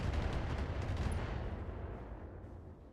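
Mech weapons fire in the BattleTech video game as enemies shoot at a Griffin, a dense, roaring barrage of blasts and rumbling impacts that holds steady and then slowly tapers off.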